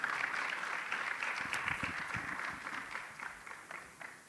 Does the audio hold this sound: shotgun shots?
no